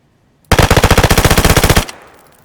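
A rapid burst of .380 ACP automatic fire through a bottle suppressor in DayZ, about twenty evenly spaced loud shots lasting over a second, followed by a short fading echo.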